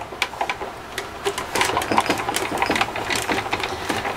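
A hand-cranked die-cutting and embossing machine feeds a stacked plate sandwich of A and B plates, matte and die, producing a steady, close mechanical whirring grind with irregular clicks throughout.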